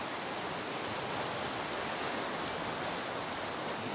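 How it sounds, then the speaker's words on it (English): Strong, fresh running water rushes steadily through a town centre in Schramberg, Germany, a dense, continuous roar with no breaks and no voices. "The fresh running water is very strong."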